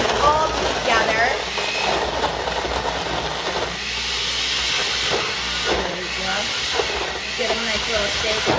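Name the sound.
blender blending a Halloween recipe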